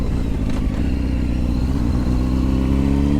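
A motorcycle's exhaust rumbles loud and close at about ear level, a steady, continuous engine drone with no talking over it.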